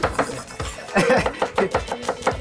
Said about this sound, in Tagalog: So, roughly chop lang to, ma'am, no?